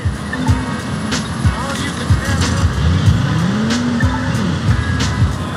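DedSec car racing in a timed race in Watch Dogs 2 on PS5, engine drone with repeated tire squeals and skids throughout, loud and continuous with a voice talking over it.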